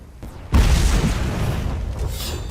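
A grenade explodes in the video game Fable 3 with a sudden loud boom that rolls into a sustained rumbling roar, following a short quieter lead-in.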